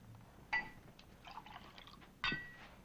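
Liquid splashes into a glass in a quiet room, with two brief bright clinks of glass as the pour runs on softly.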